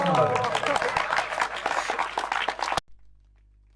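An audience at a two-day Manas festival in Chingli applauds to welcome a guru, a loud, sustained patter of many hands that stops abruptly, with a voice speaking over the clapping.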